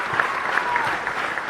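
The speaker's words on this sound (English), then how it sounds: "Let's give that another round of applause." A short canned applause effect plays during a podcast, a dense, even wash of crowd clapping lasting just over a second and a half.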